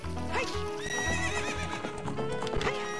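A horse in Zelda: Ocarina of Time whinnies loudly over clip-clopping hooves, the neigh rising and falling above a busy layer of game music, with no talk.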